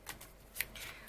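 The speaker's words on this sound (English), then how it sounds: "So the shuffling is going to take some time." Tarot cards riffle and flick in a quick, soft shuffle, faint and close, a brief stretch of papery ticks with no voices.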